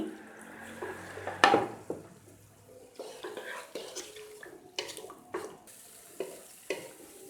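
Spice paste with tomato sizzles softly in a pan over medium heat while a spoon stirs and scrapes with intermittent knocks, close by and moderately quiet.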